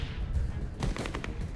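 Rapid automatic rifle fire bursts out in a Walking Dead video game scene, a dense stuttering volley of close, loud shots.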